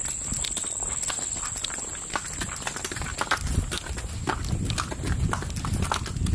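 Horse hooves clip-clopping at a steady walking pace during a ride, a continuous rhythmic patter close by with a faint high whine in the background and no talking.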